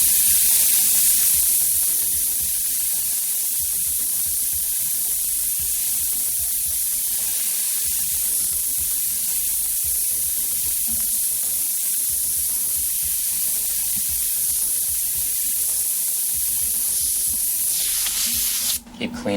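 An airbrush gun spraying paint gives a continuous loud, even hiss of air held close for the whole stretch, cutting off abruptly at the end.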